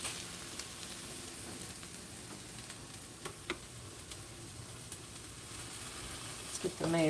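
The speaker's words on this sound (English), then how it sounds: "So there's the peppers and onion sauteing." Peppers and onion sauteing in a pan for Philly cheesesteak hoagies, a steady soft sizzle with faint ticking and crackling throughout.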